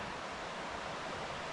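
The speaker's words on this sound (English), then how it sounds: "And I could hear a little bear creek." A small creek flowing near a hiking trail in northeastern Pennsylvania, a steady, even broadband rush of running water with no breaks, fairly faint and heard alone.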